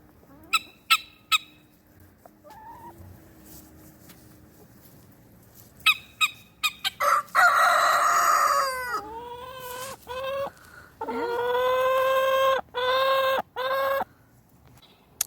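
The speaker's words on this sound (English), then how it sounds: "This is just the chicken that decided to go broody on us this spring." A broody hen clucks and squawks on a Nova Scotia homestead, starting with a few sharp clicks, then giving long, loud, drawn-out honking protests in several bursts, close by and with no talking.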